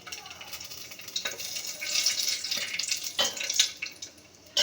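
Green chillies and bay leaves sizzle in hot oil with a soft, continuous crackling hiss, punctuated by brief louder spits and stirring sounds, fairly faint and close.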